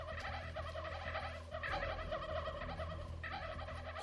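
Turkeys gobble over and over in the survival video game How to Survive 2, a dense, steady flock chorus that runs the full length with no talking.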